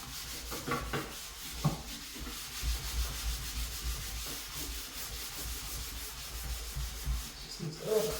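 Scrubbing dried paint off a bathroom sink, a steady close abrasive rubbing with short repeated strokes and small knocks, fairly quiet with no talk.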